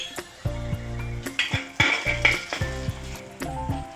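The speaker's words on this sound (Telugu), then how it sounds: "ఇప్పుడు నెక్స్ట్ వచ్చి నేను జింజర్ గార్లిక్ పేస్ట్ వేస్తున్నాను" Ginger garlic paste fries in hot oil for an egg masala, sizzling steadily while a utensil clinks and scrapes against the pan in uneven bursts close by.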